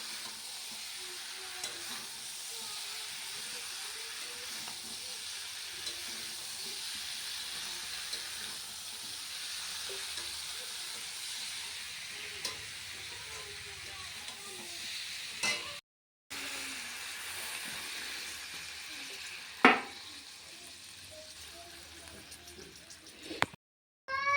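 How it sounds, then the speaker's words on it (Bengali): Cauliflower and potato sauté in a pan of cooked spice masala with a continuous low sizzle and occasional stirring scrapes, ending with a sharper clatter. "এবার ফুলকপিটা আলুটা দিয়ে দিলাম ভালো করে কষিয়ে জলটা দিয়ে দেবো"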